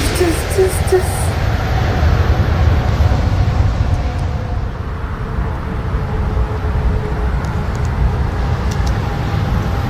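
A loud, continuous roar of a European high-speed train rushing past close by, a heavy rumble that holds steady for the whole stretch.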